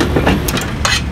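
GE microwave oven set to high, switching on and running with a steady loud mechanical hum and rattling, a few brief clicks over the drone.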